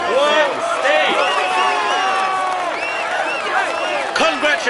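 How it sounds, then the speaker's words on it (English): A crowd applauding and cheering a stage winner in a cycling video game, with dense clapping and whoops sustained throughout, loud and close. "Ladies and gentlemen, applaud him loudly."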